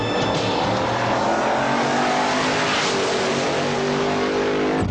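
The Dodge Little Red Wagon wheelstander drag racing truck roars with a loud, sustained engine drone, steady and close throughout with no talking.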